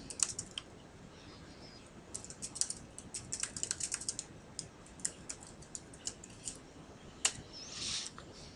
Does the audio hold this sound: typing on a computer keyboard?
yes